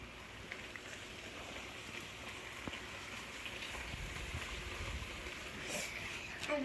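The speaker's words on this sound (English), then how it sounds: "it's raining outside" Rain falls outside on a windy day, a soft, steady hiss of drops with faint patter, fairly distant and even throughout.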